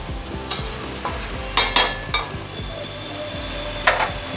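Mixed vegetables cook in a pan with garlic and nigella seeds, giving off a steady low sizzle, while a spoon scrapes and taps the pan in several sharp, spaced strokes nearby.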